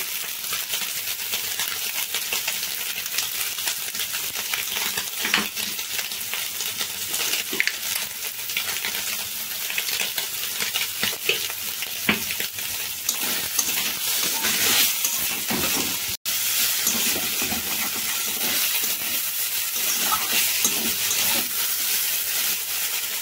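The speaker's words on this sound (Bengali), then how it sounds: "এবার সয়াবিনটা দিয়ে দিচ্ছি।" Boiled, chopped soybean chunks with a little salt and turmeric fry in hot oil in a pan, giving a steady sizzle with scraping and stirring clatter throughout, plus one brief sharp knock partway through.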